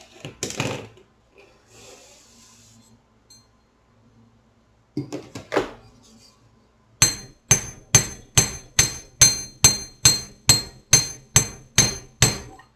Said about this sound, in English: I'm only going to strike my metal right there at the curve between those two wires